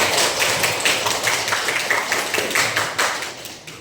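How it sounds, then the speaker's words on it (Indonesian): A high school class in Kepahiang applauds together, a fairly close burst of quick, rhythmic clapping from many hands that runs steadily before tapering off. "Tepuk tangan dulu, menjawab."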